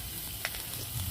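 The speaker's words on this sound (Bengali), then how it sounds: "ভালো করে কষিয়ে নেব।" Turmeric, chili powder, cumin paste and ginger paste sizzle in hot oil as they are sautéed for a Bengali fish curry, a steady, soft frying hiss with a brief stir clink partway through.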